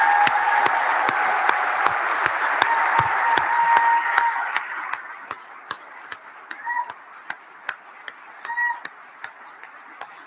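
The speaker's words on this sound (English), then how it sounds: "can we have an enormous round of applause for him, please?" Applause at a Myerscough College graduation ceremony starts as a full, dense round of clapping, then thins over the second half to a few sharp, evenly spaced claps.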